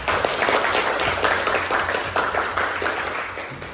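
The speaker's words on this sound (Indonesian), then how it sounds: "tepuk tangan dulu untuk semua kelompok" A classroom of students applauds all the discussion groups in an economics lesson, a dense wash of clapping at moderate level with little talk.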